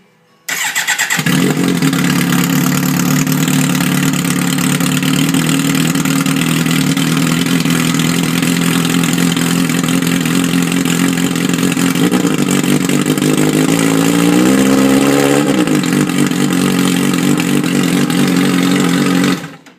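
A 2012 Kawasaki Concours 14 motorcycle running a Leo Vince mid pipe with no muffler fires up from cold and settles into a loud, steady, raspy idle close by, with one brief rev swelling near the end before it shuts off.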